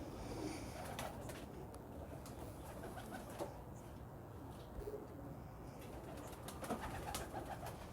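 Pigeons coo softly in a loft among breeding birds, with low repeated calls over quiet background rustle and a few faint chirps.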